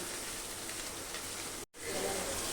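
Onions sautéing in a pan for egg korma give a steady, close sizzling hiss that drops out for a moment near the end, then resumes slightly louder.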